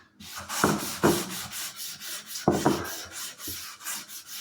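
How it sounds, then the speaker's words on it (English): Cloth rubbing stained wood with painter solvent: repeated rhythmic scrubbing strokes, close and fairly loud, with brief harder swipes. "Rub it with some of this painter solvent"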